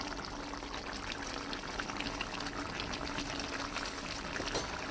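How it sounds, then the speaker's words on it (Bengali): Fried prawns go into a simmering pan of village-style curry with beans, potato, cauliflower and tomato, giving a soft, steady bubbling and sizzling, faint and close, with no talk over it. "তা এখন আমি একটু দিয়ে দেবো সেই ভেজে রাখা চিংড়ি মাছগুলো।"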